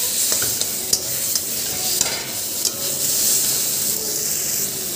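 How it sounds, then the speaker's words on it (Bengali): Taro stems stir-fried in a pan give a continuous bright sizzle under light, intermittent scraping and tapping of a utensil, heard up close with no voices. "কচুর ডাঁটিটাকে ভালো করে ভেজে নিতে হবে, যেন কচুটা গলা একদম সুন্দর করে ভাজা হয়ে যায়।"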